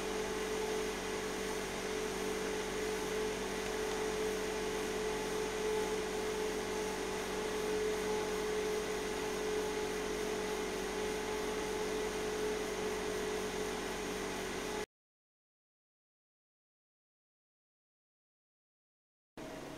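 A Scythe Grand Tornado computer fan spinning at 2000 RPM gives a steady, even whoosh of rushing air with a faint motor hum, unchanging throughout before stopping abruptly near the end.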